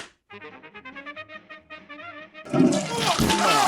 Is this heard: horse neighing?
no